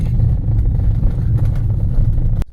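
A car engine rumbles steadily at close range for a couple of seconds, a low continuous drone with some rattle, then cuts off abruptly.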